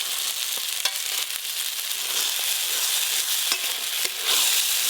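Fried paneer being stirred into butter masala in a pan over a clay stove, a steady close sizzle with scraping spoon strokes and small clinks throughout.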